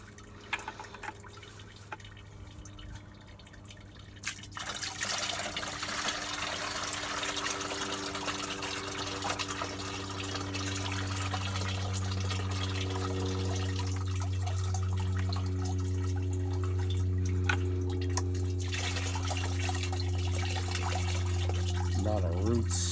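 Muddy water full of roots and twigs being poured through a strainer while making clay, a long steady gushing pour that rises after a few seconds, then thins toward dripping at the end, over a low background hum.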